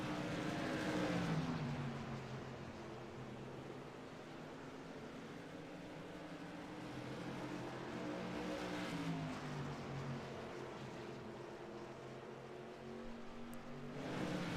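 SK Modified stock cars race around South Boston Speedway in a sim racing game, with a loud, continuous engine drone that rises and falls in pitch as cars accelerate through the corners side by side.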